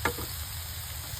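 Redfish fillets on the half shell crackle and hiss in a hot pan, with a short clatter as they are flipped, then a steady moderate sizzle.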